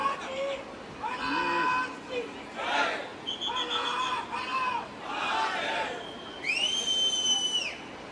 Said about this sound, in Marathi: बघा टाळ्या शिट्ट्या घोषणा चालू आहेत